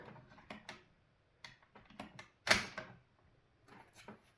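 Quiet metallic clicks and clacks of a cheap hunting carbine's bolt being worked, several separate mechanical snaps with one sharper, louder clack in the middle.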